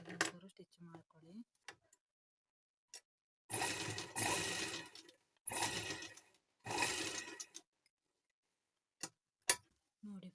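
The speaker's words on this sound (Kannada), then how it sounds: "ಸೈಡಿಗೆಲ್ಲ ನೀಟಾಗಿ ಒಂಚೂರು ಸ್ಟಿಚ್ ಮಾಡ್ಕೊಳ್ಳಿ" A sewing machine stitches the side seams of a blouse in three short, close, whirring runs, with brief clicks and faint sounds before and after.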